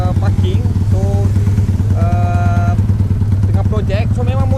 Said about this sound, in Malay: Memang motor ni aku bawa hari-hari geng, tanpa henti tanpa henti.